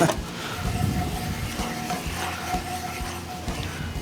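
Ingredients being stirred together in a pot for grilled cream corn, with a steady scraping and stirring rumble and a faint sizzle under it, close by and outdoors, with wind in the background.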